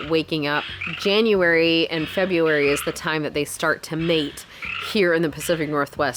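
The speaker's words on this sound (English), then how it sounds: "You guys hear the frogs in the background?" Frogs croak in a dense chorus in the rain in the Pacific Northwest, a steady rhythmic background that keeps going beneath a person talking throughout.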